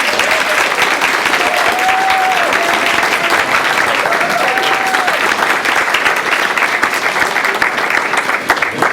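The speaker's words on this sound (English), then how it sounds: "Let's give him a round of applause." Steady, loud audience applause fills a school board of education meeting, continuous clapping throughout with faint voices underneath.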